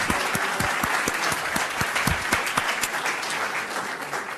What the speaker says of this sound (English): So I would like a round of applause.